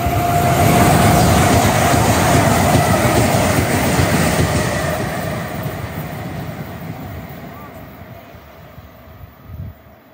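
A train rumbles loudly past at Ealing Broadway station with a rushing roar and high metallic whine, gradually fading as it moves away, ending with a brief clunk.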